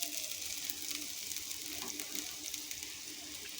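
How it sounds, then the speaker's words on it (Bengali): Hot water is poured into rice frying in a pot for basanti polao, giving a soft, steady sizzling hiss with faint bubbling crackles throughout. "এবার এর মধ্যে জল ঢেলে দেব।"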